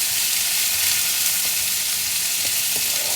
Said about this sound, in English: Okay, so let's saute this so the onions turn soft.